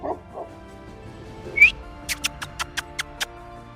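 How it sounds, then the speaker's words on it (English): A pet dog scratching at something indoors: one brief high whine, then a quick, evenly spaced run of sharp scratching taps, fairly close and otherwise quiet. "I hear my dog scratching."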